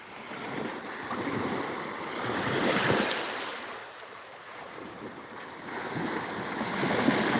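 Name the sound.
ocean waves at a beach in Thailand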